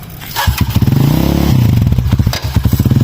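A habal-habal motorcycle taxi engine revs loudly and close by, its throttle rising and falling in a steady pulsing putter with a brief surge in the middle.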